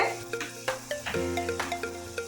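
Beef fries in a pan, a steady close sizzle with rhythmic scraping and stirring strokes recurring every fraction of a second, moderately loud with no voices over it.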